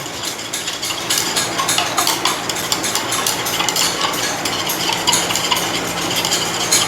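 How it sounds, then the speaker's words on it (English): Face cream emulsion with heat-stable powders added, stirred quickly in a container: a dense, continuous rapid clatter and scraping of the stirrer against the vessel, close and loud throughout, with no talking. "you add and then you stir really fast"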